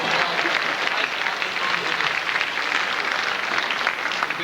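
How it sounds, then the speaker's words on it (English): A studio audience at a 1995 Saint Patrick's Day special gives steady, full applause, a continuous even roar of many hands clapping with no talk over it. "Give them a round of applause."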